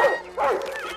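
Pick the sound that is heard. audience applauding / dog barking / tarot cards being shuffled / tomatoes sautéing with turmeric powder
dog barking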